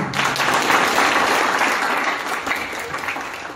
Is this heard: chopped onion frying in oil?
no